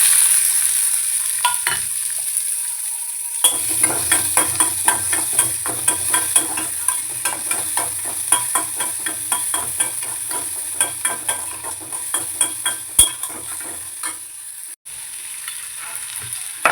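Onions sautéing in a pan with mustard seeds and lentils for a banana stem stir-fry, a steady close sizzle with a rapid train of crackling pops and spatula scrapes, no voices.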